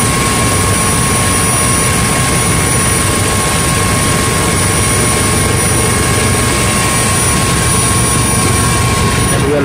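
Steady, loud rotor and turbine drone from inside a helicopter descending to land at Gopinath Bordoloi Airport in Guwahati, a dense continuous roar with a high whine running through it and no talk.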